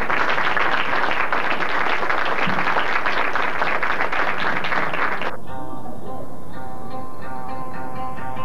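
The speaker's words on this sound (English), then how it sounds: "let's give them a nice round of applause" An audience applauds at a show featuring gymnastics and costumes, a dense, loud burst of clapping that runs for about five seconds and then cuts off abruptly.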